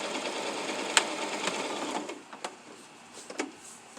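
Sewing machine stitching fabric for a simple drawstring face mask, a steady close mechanical whir for about two seconds, then tapering off into a few light clicks and handling taps.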